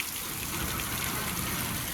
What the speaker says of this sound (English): it's pouring down rain in here